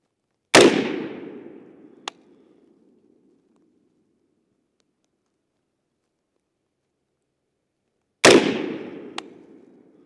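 A Daniel Defense rifle fires two loud, sharp shots about eight seconds apart, each followed by a rolling outdoor echo that fades over a couple of seconds, with quiet stretches in between.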